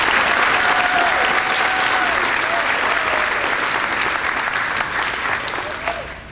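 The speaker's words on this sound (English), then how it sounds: "please give them one more round of applause for being here" Dense, warm applause from an audience at a high school signing day ceremony honoring student athletes, sustained for several seconds before tapering off at the end.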